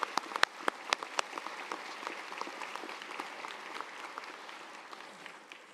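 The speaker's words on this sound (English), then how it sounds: "May I ask for a round of welcoming applause for both of those gentlemen." Audience at a spring architecture and design school commencement applauding; a few sharp, close claps open it, then dense steady clapping fills the hall and gradually thins toward the end, with no talk over it.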